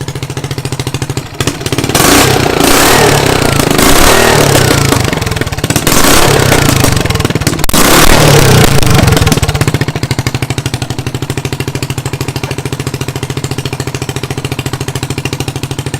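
A drift trike's small engine revs hard for several seconds with crackling exhaust bursts, then drops back to a steady, close idle that putters on alone.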